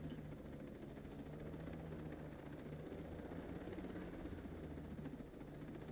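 A video-game helicopter drones with a steady, pulsing rotor beat, constant and fairly quiet throughout, with no speech.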